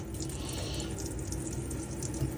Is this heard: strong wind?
no